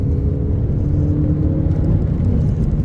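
A turbocharged Audi TT Mk1 engine pulls hard toward redline, a loud, steady low rumble and whir sustained throughout without pause.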